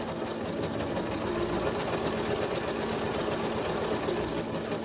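A Singer computerized sewing machine runs steadily while stitching a zipper into a skirt, giving a continuous close mechanical whir with a fine rapid needle rhythm throughout and no pauses.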